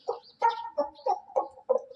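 A voice imitates a rooster calling its chicks to food, giving six short, clucking calls in an even rhythm, close and clear against silence.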